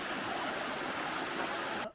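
A river rushes over shale in a steady, close broadband wash, with no voices, and cuts off abruptly near the end.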